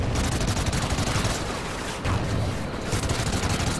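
Sustained rapid gunfire from a gun in Call of Duty Ghosts, a dense, loud, continuous rattle of shots with brief dips, heard alone without talk.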